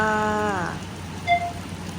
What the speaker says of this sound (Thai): ที่นี่เป็นฤดูฝนเรามาถึงที่นี่ฝนตลอดเลยค่ะ